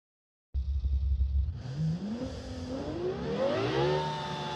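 A 1,500-horsepower V12 in a driving video game roars to life after a brief silence, then revs upward through rising gear pitches, the engine note climbing and shifting steadily, clear and close.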